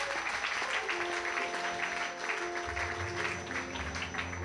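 A church congregation at a district convention applauds steadily throughout, dense continuous clapping with sustained musical tones underneath and no distinct speech.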